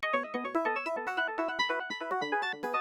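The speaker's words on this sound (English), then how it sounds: "that DX7 arpeggio that's been going throughout the entire song" Dry Yamaha DX7 FM synth arpeggio, bright bell-like notes cycling quickly and steadily in a repeating pattern, loud and close, with no effect applied.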